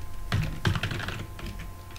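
Computer keyboard keys clatter as form data is entered, a quick cluster of clicks and taps that are close and distinct, with no voices.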